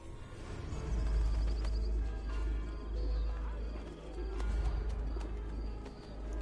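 Pigeons coo softly in Assassin's Creed: Brotherhood over a low, rumbling outdoor ambience, with a few scattered chirps across the scene.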